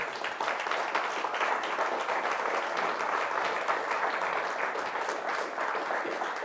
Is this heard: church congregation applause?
yes